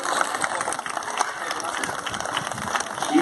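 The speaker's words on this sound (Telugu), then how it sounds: "చప్పట్లు కొట్టాలి మనం అందరం." Children and adults at a school Krishna Ashtami celebration clap together, a dense, steady round of applause filling the hall with voices mixed in.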